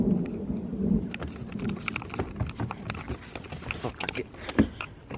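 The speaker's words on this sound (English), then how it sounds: "it's raining a bit." Rain falling during a thunderstorm, scattered drops tapping irregularly on nearby surfaces, with low rumbles beneath and a person talking in between.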